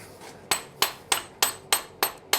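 A blacksmith's hammer strikes hot metal to upset it, eight sharp ringing blows in a steady, even rhythm, close and clear with no talking.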